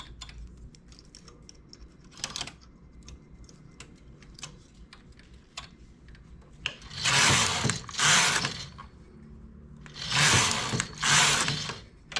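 A hand-operated knitting machine transferring stitches, with light clicks and ticks followed by two pairs of loud, harsh carriage sweeps, close and without talk.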